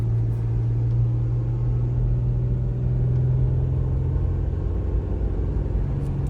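A 2006 Toyota 4Runner SR5 4x4 cruising up a mountain highway, heard from inside as a steady low engine hum and road rumble with no breaks.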